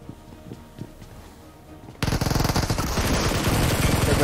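Rapid automatic gunfire from a mobile multiplayer shooter game in duo mode erupts suddenly and loudly halfway through, a dense sustained burst of shots following a quieter stretch with a few faint isolated pops.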